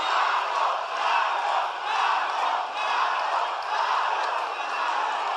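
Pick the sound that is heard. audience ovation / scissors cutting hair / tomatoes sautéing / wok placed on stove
audience ovation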